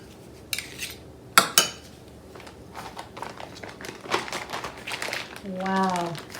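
A big spoon scrapes and clinks against a container of homemade chocolate and strawberry ice cream, with a few sharp knocks and scraping strokes up close, while people talk around it.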